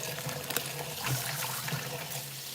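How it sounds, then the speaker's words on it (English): Running water rinses grapes in a kitchen sink, a steady close wash of flowing liquid with soft splashing throughout, no talking. "Rinse that off real good."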